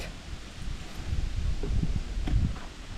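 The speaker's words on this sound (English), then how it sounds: "It's very windy out here." Wind buffets the microphone in low, rumbling gusts at a Missouri campsite, with faint rustling outdoors and no voices.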